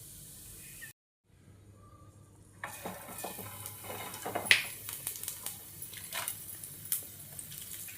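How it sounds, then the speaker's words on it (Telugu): Urad dal dropped into hot oil for tomato chutney tempering, a brief silence then a rising crackling sizzle with scattered pops and a spoon clinking against the pan, close and steady with no talk. "ఆయిల్ హీట్ అయిన తర్వాత మినపగుళ్ళు వేసుకోవాలి"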